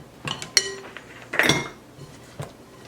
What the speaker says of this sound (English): I'm actually going to scrape down the sides of the bowl